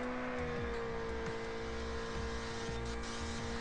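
A racing car engine from Ridge Racer Slipstream, played on a Shield tablet, drones steadily with shifting revs and gear changes, loud and continuous throughout.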